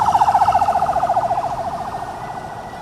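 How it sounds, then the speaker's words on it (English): An ambulance siren wails on a road in Uganda, its rapid warbling tone loud and close at first and then gradually fading as the vehicle moves away, with no voices. "Blaring horns rang out as ambulances crisscrossed roads in search of oxygen and scarce intensive care unit beds."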